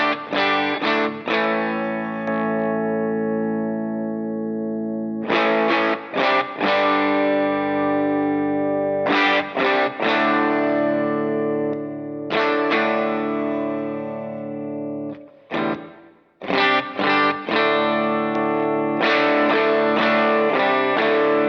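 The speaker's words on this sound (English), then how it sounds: "when I turn this pedal on, it's gonna sound different than when I had a dirty amp" Electric guitar played through a drive pedal into a clean amp, loud distorted chords and riffs in short bursts with brief pauses between phrases, no talking.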